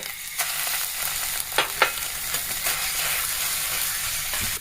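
Chicken pieces coated in ginger-garlic paste fry in a pan for a vegetable chicken momo filling, with a steady close sizzle and a few sharp crackles and spatula scrapes.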